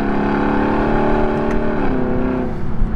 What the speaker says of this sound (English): Let's get some downshifts.